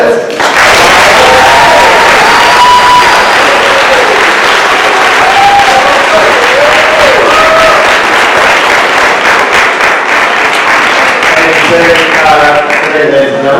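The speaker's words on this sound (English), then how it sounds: "I would like you to give a round of applause for our candidates." A crowd at a presidential debate event applauds and cheers for the candidates, with dense, loud, continuous clapping and a few whoops rising over it for the whole stretch.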